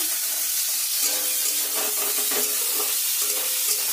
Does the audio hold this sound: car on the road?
no